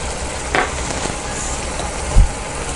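Mango milk peda mixture stirred in a hot pan, a low steady sizzle with a few scraping knocks of the spoon against the pan.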